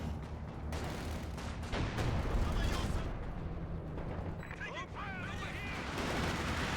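Rapid gunfire in a multiplayer war video game, a dense stream of distant shots rattling steadily across the whole stretch amid game noise, with a voice briefly heard over it.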